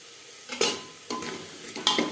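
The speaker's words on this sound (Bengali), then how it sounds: "টেঙ্গির সাথে বেশ ভালো করে মিক্সড করে দেব আর দিয়ে দেব একটা টমেটো একটা গাজর" A spoon or ladle stirs mutton trotters with tomato and carrot in a pot, three scraping strokes with light sizzling between them, close and fairly loud, no voices.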